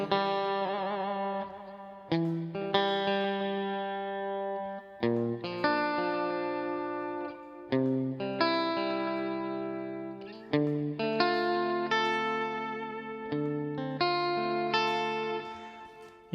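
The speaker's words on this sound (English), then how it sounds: "I like the dual delay as well" Electric guitar played through a dual delay patch on a Quad Cortex, each plucked note and chord ringing out with distorted, repeating echoes that trail into one another in a steady, unhurried phrase.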